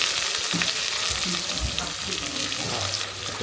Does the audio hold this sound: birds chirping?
no